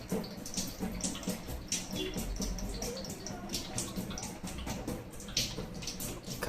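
Water draining and splashing out of a removed part of a Livpure RO water purifier, a steady faint trickle with small drips and bubbling, heard close up and without talk.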